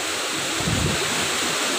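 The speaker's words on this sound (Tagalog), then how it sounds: "Lakas na po ng hangin." Strong typhoon wind from Typhoon Uwan at an exposed landing pad, a loud continuous roar buffeting the microphone with a brief surge in the middle, no voices.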